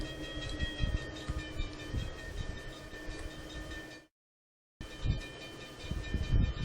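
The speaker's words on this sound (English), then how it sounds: "as you can hear, we've got no more tick, tick, tick as the bells ring" A train rumbles past nearby with steady ringing tones from crossing bells, briefly cutting to silence before the passing noise and bells resume.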